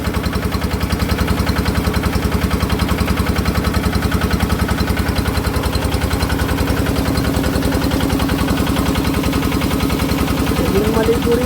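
The engine of a fishpond water pump runs steadily after starting, a loud close rhythmic chugging that stays even throughout, with no talk over it.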